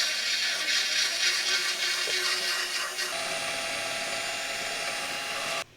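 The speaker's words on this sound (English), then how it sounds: "and then weld it in" Welding a TRD reinforcement piece onto the rear subframe of a Toyota Altezza, a continuous loud crackling hiss of the arc that runs steadily for several seconds and then cuts off abruptly.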